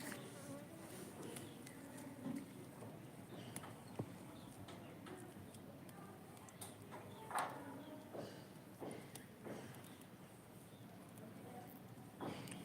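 Flies buzz faintly around vegetable plants in a green tomato garden, a thin, wavering drone broken by intermittent soft rustles and clicks.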